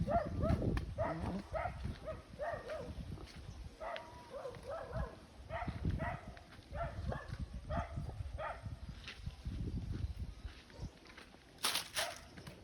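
A dog barks again and again outdoors, short harmonic yelps in an uneven rhythm at moderate distance, with some rustling and footstep-like noise underneath.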